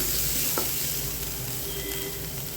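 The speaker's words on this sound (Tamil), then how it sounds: "எண்ணெயில் வந்து நல்லா வதக்கிடலாம்." Mustard seeds, chillies and ground cumin and pepper fry in hot oil in a home kitchen for coconut milk rasam, making a continuous soft sizzle with faint stirring scrapes and small pops.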